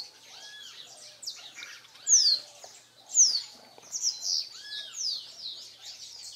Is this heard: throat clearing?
no